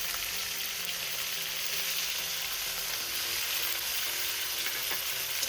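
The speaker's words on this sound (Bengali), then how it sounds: "এবার আমি এই ফোড়নের সাথে শিমটা একটু ভেজে নেবো" Cut flat beans frying in hot oil with a spice tempering, a steady close, loud sizzle running the whole time without pause, no voices over it.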